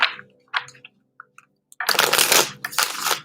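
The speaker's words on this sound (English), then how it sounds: "Let's go and pull out one last card here." Cards from the Vixen Tarot dark deck being handled and drawn, with soft scattered rustles and taps, then a long, loud papery shuffle of cards close up.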